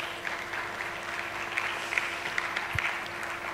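Applause from a conference audience at a German-Nigerian industry and commerce event, a steady even patter of many hands sustained throughout, moderate in level with a faint low hum beneath.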